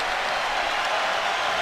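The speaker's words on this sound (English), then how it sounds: "The crowd standing and rising to their feet as we start here" A home crowd applauding at a basketball arena as a FIBA EuroBasket 2017 game between Italy and Israel begins: dense, steady applause and crowd noise filling the space, continuous and fairly loud.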